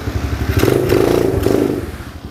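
A 110cc automatic four-stroke mini moto revs up with a buzzing, pulsing engine note and light mechanical clatter, close and fairly loud, rising then easing off, with no talking.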